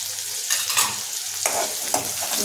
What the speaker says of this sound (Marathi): त्यामध्ये ठेचलेली मिरची आणि लसूण टाकायचं। त्याच्यानंतर कढीपत्ता टाकायचा।